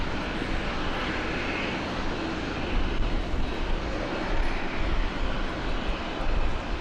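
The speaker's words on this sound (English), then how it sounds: "That beautiful Korean Air 7879 taxiing out for departure in Brisbane." Korean Air Boeing 787-9 taxiing out for departure at Brisbane Airport, a steady, fairly loud broadband jet engine roar that holds even throughout with no talking.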